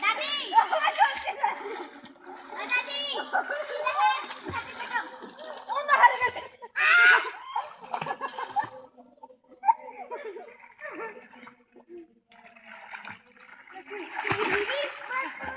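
People splash about in a village pond, water slapping and churning in repeated bursts while children shout, laugh and chatter loudly and close throughout.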